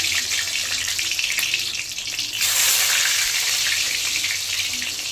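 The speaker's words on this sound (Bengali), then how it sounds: "যা যা ভাজবার জন্য কেটেছিলাম সেইগুলো ভেজে নেওয়ার জন্য প্রথমে দিয়ে দিচ্ছি বেগুন" Eggplant pieces sizzle loudly in hot white oil, a steady close frying hiss that swells midway as more pieces go in, with no talking.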